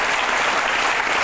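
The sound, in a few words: audience applause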